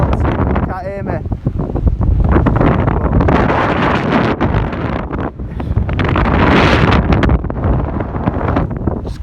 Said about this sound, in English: it's windy as hell, so you can't hear me